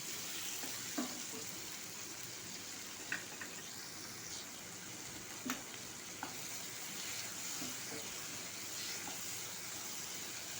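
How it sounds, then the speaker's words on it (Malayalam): Chopped onions and green chillies sautéing in a pan for a dried prawn and tomato curry, a faint continuous sizzle with a few soft stirring knocks, no voices. "രണ്ട് സവോള ചെറുത് രണ്ട് പച്ചമുളക് ഇത്രയും ഇട്ട് കൊടുക്കാം നന്നായി വഴറ്റുക"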